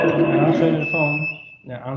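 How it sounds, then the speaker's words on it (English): A SIP intercom's hand detector sets off an alarm: a steady, high electronic tone holds for about a second and a half beneath someone talking, then cuts out before his voice continues alone. "This hand detector. Okay. Detector trigger alarm."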